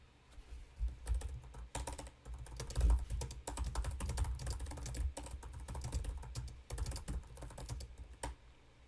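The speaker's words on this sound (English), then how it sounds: "Here's what it sounds like when you're typing onto a keyboard." Soft, fast clicking of Dell XPS 15 2-in-1 laptop keys in a continuous typing run, fairly quiet and close, with no voices.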